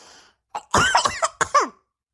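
A few harsh coughs from someone with a cold and fever, in a quick cluster, close to the mic, following a brief faint sound before them.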